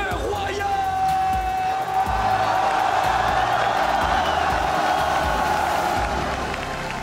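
Large esports arena crowd at a League of Legends Mid-Season Invitational final applauding and cheering for Royal Never Give Up, a steady dense roar of clapping and whoops with a sustained tone and voices mixed in.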